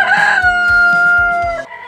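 Aseel chicken, a large meat-type breed, crowing loudly close by in one long drawn-out call, with low clucks underneath.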